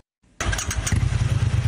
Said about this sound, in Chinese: 轰隆隆，低沉引擎声，一台台大型重机骑过去